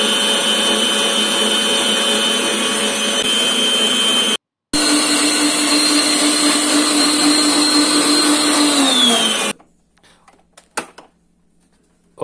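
Kitchen blender whipping a pupunha ice cream mixture, a steady loud motor whine that briefly stops and restarts, then winds down and cuts off, leaving quiet clicks and handling noises.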